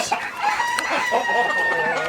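Ko Shamo hens cluck and chatter steadily nearby, a dense, busy run of short clucks with no pauses.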